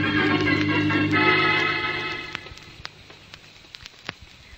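Rain effect in a 1945 Boston Blackie radio drama, a soft hiss of falling water under a fading music bed, with scattered drop-like ticks that thin out toward the end.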